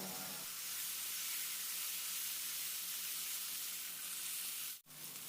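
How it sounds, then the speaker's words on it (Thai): Steady, loud sizzling of sliced Thai eggplant and garlic stir-frying in a hot pan, a continuous hiss with a brief break near the end. "ผัดให้เข้ากันกับกระเทียม"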